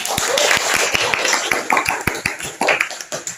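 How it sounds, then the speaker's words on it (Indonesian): Students in a classroom clapping for a classmate, a quick burst of irregular hand claps that thins into scattered sharp claps, close and loud. "Ya, oke, berikan tepuk tangan."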